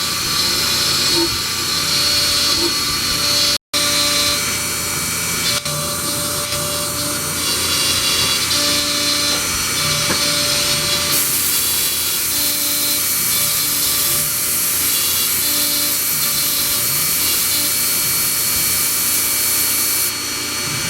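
An Inventables X-Carve CNC router cuts wood on a cleaning pass, a continuous high whining spindle with a grinding cutting texture, steady and loud throughout with one abrupt brief dropout.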